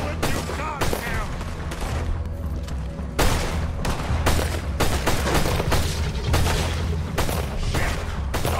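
Rapid, sustained gunfire in the video game Red Dead Redemption 2, a dense barrage of shots running throughout at steady loudness, with a voice speaking over the shooting.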